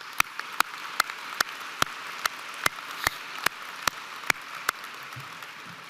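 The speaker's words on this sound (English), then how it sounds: "So please, another round of applause." A single person claps slowly and evenly at a virtual commencement ceremony, about fourteen crisp, close claps spaced roughly a third of a second apart over faint background noise.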